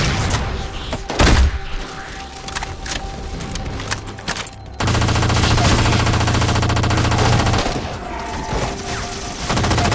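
Rapid gunfire from Halo 4, with a burst of shots followed by sustained, dense firing that holds loud and steady for several seconds before easing.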